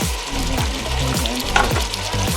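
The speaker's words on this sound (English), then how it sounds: "Five pieces of cloves are now going in here" Whole cloves hit hot oil in a pan for a white rice with red kidney beans dish, giving a loud, steady sizzle and frying crackle with a few brief stirring scrapes, close and alone.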